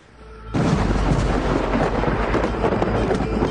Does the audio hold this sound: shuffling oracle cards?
no